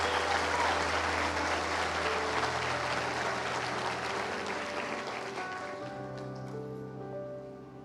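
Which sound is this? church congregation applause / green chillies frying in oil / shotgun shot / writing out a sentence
church congregation applause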